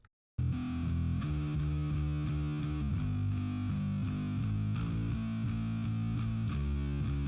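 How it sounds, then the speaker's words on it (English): A solo bass guitar line pulled out of a mix, playing steady low notes with a gritty, distorted tone, continuous and close for several seconds after a brief silence. "buried in that mix is this bass guitar, which I will play by itself."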